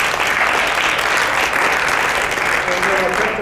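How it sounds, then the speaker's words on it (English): An audience at a theatre-in-the-round event claps for the organizers in a full, steady round of applause, close and loud throughout, with faint voices underneath. "Can we please clap for everybody on the back page?"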